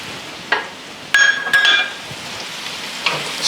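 A spoon stirs apples with muscovado sugar and cinnamon in a pan over low heat, with a few close metallic scrapes and clinks over a faint steady sizzle, no speech.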